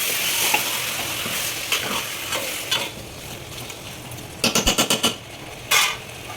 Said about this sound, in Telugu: కలుపుకోవాలి బాగా చికెన్ వేసి